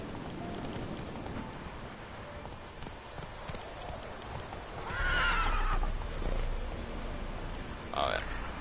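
Roach, the horse in The Witcher 3, clops its hooves amid steady rain, then gives two sharp whinnies, the first long and the second brief near the end, with talk in the background.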